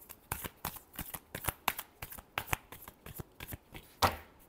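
Tarot cards being shuffled by hand in a quick run of crisp riffles and slaps, about a dozen sharp bursts close up, with a louder final snap near the end and no talking.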